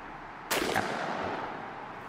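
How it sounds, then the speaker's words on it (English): A Mossberg SA 28 gauge shotgun fires a single Viper shell outdoors: one sharp, loud blast followed by a fading rumble. "now we are going to shoot our Viper ammunition"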